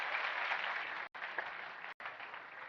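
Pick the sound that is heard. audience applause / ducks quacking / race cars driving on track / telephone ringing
audience applause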